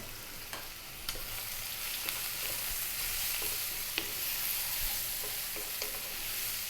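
Ground chili, turmeric, coriander and cumin hit the oil of a pan for a vegan tofu curry, giving a steady soft sizzle and frying hiss with occasional small clicks of a spoon, fairly quiet and without talk.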